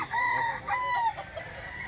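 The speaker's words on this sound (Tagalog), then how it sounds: "Gandang manok na to, ang kinis ng balayibo." A Hiraw gamecock crows twice in quick succession, close and clear, over a quiet background.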